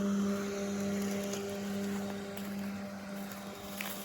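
A Lymow One robotic lawn mower cutting grass runs with a steady, even motor hum and drone throughout, with no talking.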